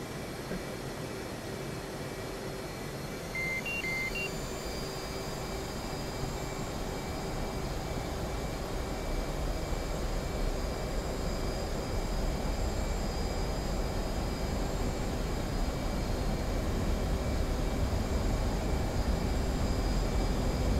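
A military jet in the flight simulator DCS goes to full throttle for takeoff, a steady loud engine roar with high whine holding evenly throughout, with no talk.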